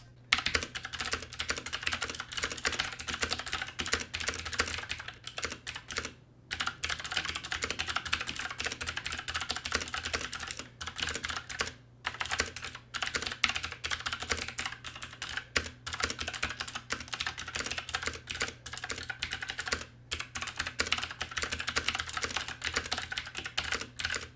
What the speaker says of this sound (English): here's a little sample of the switches by themselves